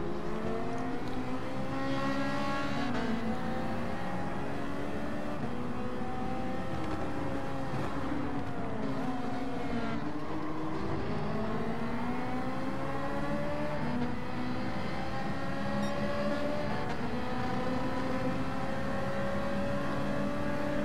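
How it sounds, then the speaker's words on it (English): A race car engine in Gran Turismo 7 climbs steadily through the revs under acceleration, each gear rising in a smooth whine before dropping and building again. Loud and continuous throughout, with no talking. "And with this engine sound, I'm quite happy to have some sections on this track that, you know, you can accelerate quite a lot."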